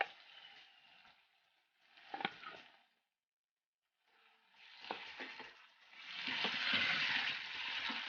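Chicken pieces dropped into hot, softened masala sizzle in bursts with gaps of quiet between them, building to a steady, loud frying hiss near the end, with a few spoon knocks along the way.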